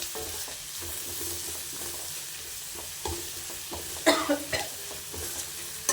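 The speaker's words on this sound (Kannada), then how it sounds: "ಅರಿಶಿಣ ಹಾಕಿ ಇನ್ನೊಂದು ಸಲ ಮಿಕ್ಸ್ ಕೊಡಿ" Stirring turmeric into avarekalu chitranna in a pan, a low scraping and soft sizzle running steadily, with a few louder spoon scrapes and clinks near the end and no voices.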